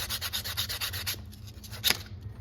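A leather tool sheath is hand sanded with quick, rhythmic scratchy strokes that fade slightly, then one louder rub, close and steady.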